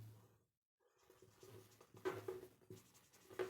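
Writing by hand while working a linear equations problem in a classroom-style lesson, scratchy pen or chalk strokes coming in short bursts after a brief silence, close and without talk.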